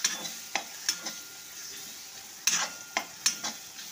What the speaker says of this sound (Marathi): असं छान परतून करायचं। टमाटर मऊ झाला की त्याच्यामध्ये 1 वाटी बेसन टाकायचं।